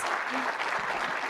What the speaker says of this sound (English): Put your hands together in a thunderous round of applause.